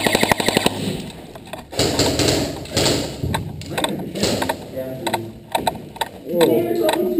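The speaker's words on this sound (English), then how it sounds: "You're fucking shooting right now." Airsoft guns firing during an indoor airsoft game, with bursts of rapid mechanical clatter and sharp single shots close by, broken up by pauses and mixed with players talking.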